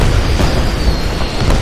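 Heavy booming blasts from Hellfire missiles in the game Renegade X, a loud, dense rumble filling the short moment with no gap.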